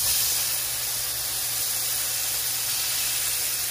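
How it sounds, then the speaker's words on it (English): Shrimp with garlic frying in a pan, a steady loud hiss of sizzling oil that holds evenly throughout with no break and no voices. "place the shrimples into the pot right here, the pan,"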